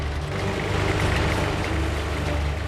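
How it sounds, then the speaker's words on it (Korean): A tractor pulling a root crop harvester works through a ginseng field during the autumn dig, its engine a steady low drone with continuous mechanical rumble and rattle of the digging implement, loud and close throughout. "트랙터 뒤에 땅속 작물 수확기를 달아 인삼밭을 오가며"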